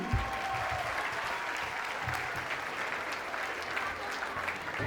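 A crowd at an outdoor concert stage applauding steadily, dense continuous clapping that holds at an even level from start to finish.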